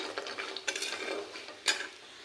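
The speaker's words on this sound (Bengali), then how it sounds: "এই যে দেখো সয়াবিনটা ভেজে নিচ্ছি" Soybean chunks frying in a pan, with a soft continuous sizzle broken by a few sharp spoon-on-pan scrapes and clinks as they are stirred; no one speaks.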